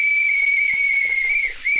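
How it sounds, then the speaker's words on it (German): A referee-style whistle is blown during a Nerf gun challenge, giving one long, loud, steady shrill tone that dips briefly near the end before returning. "Boah, diese Pfeife."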